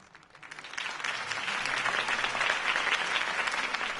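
Crowd applause for Harvey Dent's campaign speech in the video game Batman: The Telltale Series, a dense wash of clapping that swells in over the first second and holds steady and loud.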